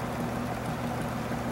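A small electric motor spins steadily at about 435 RPM, drawing 0.14 amps, giving a constant close hum with a low tonal drone and no change in pitch or loudness throughout.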